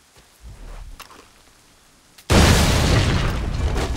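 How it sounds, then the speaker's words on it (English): A barrel goes off at a bomb reserve in Assassin's Creed 3: after a few faint clicks and shuffles, a sudden loud blast erupts and then rolls on as a long crackling rumble of debris. "And now we just need to blow up the bomb reserve."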